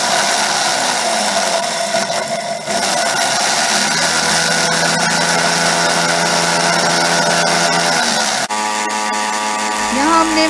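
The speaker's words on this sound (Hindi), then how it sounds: "यहाँ हमने मसाले को जो है ग्राइंड कर लिया है, बारीकी से पीस लें।" Roasted spices for a tamarind and date chutney whirring loudly in an electric grinder, a steady high motor drone that cuts off abruptly near the end, leaving a lower hum.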